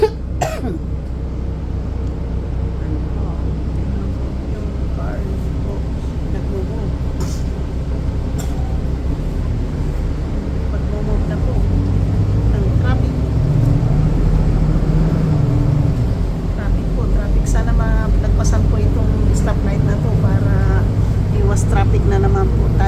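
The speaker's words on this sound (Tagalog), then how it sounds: "Dito po ako sa bus." Riding inside a bus in freeway traffic, with a steady loud low engine and road rumble throughout, rattles and occasional knocks, and a person talking briefly near the end.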